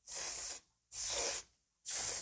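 Three short, forceful bursts of hair spray hiss onto the roots of a man's hair during everyday parted styling, each spray lasting about half a second and separated by brief silent pauses.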